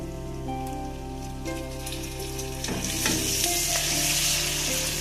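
Chopped tomatoes hit hot oil with desi chicken kosha curry and turmeric in a pan, a steady sizzle swelling into louder frying and scraping stirs, close up with no voices.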